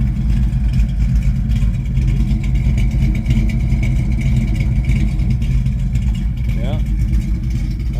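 A restored 1972 Ford Mustang Mach 1 idles with a loud, steady low rumble from its engine and muffler exhaust, close by and constant throughout.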